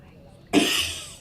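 A single short, harsh cough close by, with a breathy tail.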